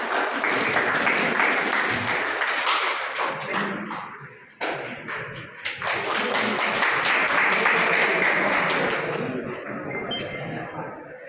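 Audience applause at a college certification session on generative AI, with dense sustained clapping that dips briefly midway, then builds again and tapers off while a voice speaks underneath.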